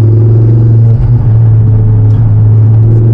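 A Ford Focus RS 500, a front-wheel-drive performance hatchback, droning loudly and steadily from inside the cabin while driving, a constant low engine rumble with little change in pitch.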